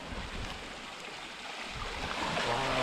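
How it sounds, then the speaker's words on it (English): Ocean waves surge over a tidal rock plateau on the Scottish coast, giving a steady, broad rushing and churning wash of water that swells slightly louder toward the end, with no voices. "there wasn't any waves for ages, and then all of a sudden there was that big one. It was kind of churning and swirling."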